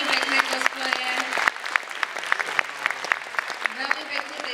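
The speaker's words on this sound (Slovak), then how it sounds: "Veľký potlesk pre túto skupinu" Audience at a comics and cosplay convention claps for a costumed group, lively applause with distinct individual claps ringing out, voices audible through it.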